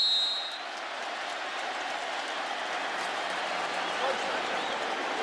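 Saints home football crowd cheering in a stadium, a steady, distant roar of many voices running throughout under a commentator's talk.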